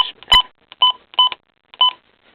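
A few short electronic beeps from button presses on a Midland WR120EZ weather radio, spaced irregularly, crisp and close with silence between them.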